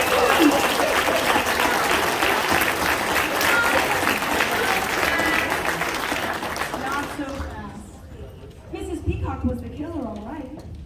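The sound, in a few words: audience applause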